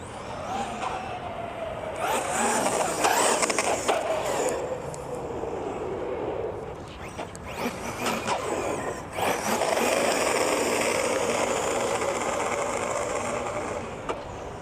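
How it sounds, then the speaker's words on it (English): Wheelie bar of a Kronos XTR 6s on-road RC car scraping along the ground, a harsh grinding rasp under a loud whining motor and tire roar that swells and fades as the car passes, with no talk. "That's that wheelie bar scraping on the ground, is what you guys hear."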